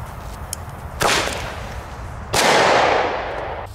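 Thunderking firecrackers explode outdoors in two sharp, loud cracks about a second and a half apart, each leaving a rolling, fading echo, with a faint tick before them.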